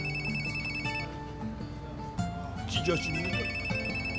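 An old-style telephone bell rings repeatedly in a domestic drama scene, bright clustered rings under a soft musical background, while a voice speaks over the ringing toward the end.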